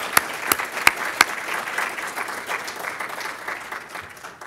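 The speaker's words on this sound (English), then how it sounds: "if I get a round of applause for those people," Round of applause from an audience at a talk on US democracy, opening with several sharp, separate claps before settling into steady, even clapping that continues throughout.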